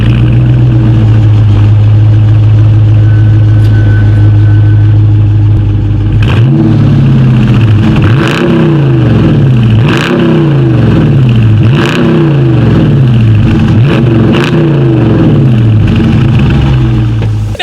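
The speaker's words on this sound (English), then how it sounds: "Here is that amazing exhaust clip" A 2018 Dodge Challenger R/T Plus Shaker idles with a deep, loud exhaust burble, then revs repeatedly in a series of sharp rising and falling bursts at close range.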